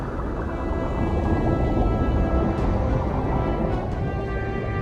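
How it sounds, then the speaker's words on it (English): A violent thunderstorm in the Wizard101 video game rumbles as a loud, continuous low roar of wind and thunder with a steady wash of rain-like noise. "Through the altimeter, you can sense how violent the storm is getting."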